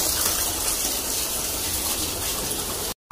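Water gushes and splashes steadily through a bath, a dense continuous wash of sound that cuts off abruptly near the end.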